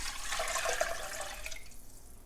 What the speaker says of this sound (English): now we're going to go in with our 5 cups of water